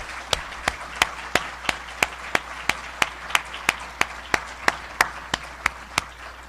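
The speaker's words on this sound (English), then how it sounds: "So let's give them all a round of applause." Applause at an awards celebration, heard as a steady, evenly spaced run of sharp, loud claps at a brisk regular beat, clapped in unison for about six seconds with no talking over it.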